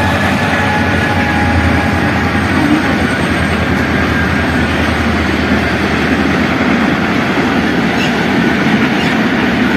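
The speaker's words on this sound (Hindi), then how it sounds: "ट्रेन भी जा रही है घर के जो है साथ है ट्रेन का" A long, large train rolls past close to a village house in Pakistan, a loud continuous rumble with rail clatter holding steady for the whole stretch, no talking.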